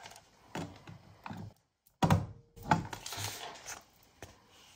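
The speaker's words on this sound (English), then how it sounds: "So I'm just using my envelope punch board." An envelope punch board punching through paper gives a few sharp, close clicks and thunks separated by short pauses, with small rustles between them, fairly quiet overall.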